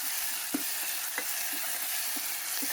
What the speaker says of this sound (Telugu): అల్లం వెల్లుల్లి పేస్ట్ వేసి పచ్చి వాసన వేయదాకా వేయించుకోవాలన్నమాట.